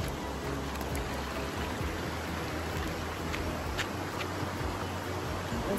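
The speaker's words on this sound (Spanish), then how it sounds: "mira el río" A river flows steadily outdoors, a broad continuous wash of rushing water with no voices, holding at an even level throughout.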